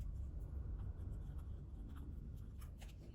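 A pen traces around the base of an empty thread cone on fabric while marking a patchwork pouch, making a soft, steady scratching that runs continuously at low volume, close by.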